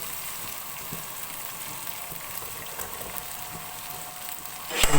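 Peas, carrots, tomato, ginger and garlic frying in hot oil in a pot, giving a steady close sizzle and crackle throughout with a brief louder clatter at the end, no voices.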